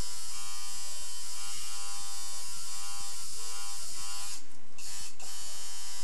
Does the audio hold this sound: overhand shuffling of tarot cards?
no